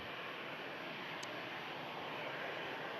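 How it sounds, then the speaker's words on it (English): An aircraft departs from runway 23 right at Manchester Airport, its engines a steady, broad distant roar that holds evenly throughout. "that looks like it's going to be the first departure from runway 23 right"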